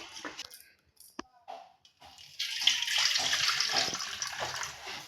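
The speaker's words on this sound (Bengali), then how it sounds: "এখন চালটা আমি একটু পরিষ্কার করে ধুয়ে নেব" Home-grown Gobindabhog rice is washed in water: a few light clicks and handling noises, then a steady close rush and splash of water for the rest of the moment.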